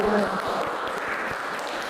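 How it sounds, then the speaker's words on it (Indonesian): Audience applause during a teaching demonstration: a short, fairly steady burst of clapping with a faint tonal hum at the start, no talk over it. "Tepuk tangan dulu."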